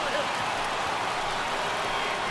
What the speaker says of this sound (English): Yeah, I can hear the crowd murmuring now, wondering if he hit him on purpose.